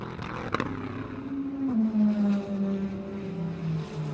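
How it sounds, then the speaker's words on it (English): Wright Motorsports Porsche GT race cars running nose to tail at Sebring International Raceway, a loud engine note passing close with a sharp burst, then a steady downshifting drone that fades slightly as they pull away. "2 Wright Motorsports Porsches running line astern"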